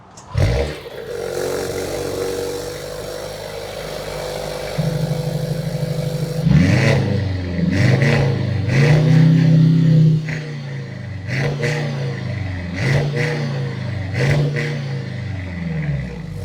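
A 2024 Mercedes-AMG C63 S E Performance idles, then its quad exhaust revs repeatedly in loud, rising bursts with a deep rumble, each rev dropping back between blips.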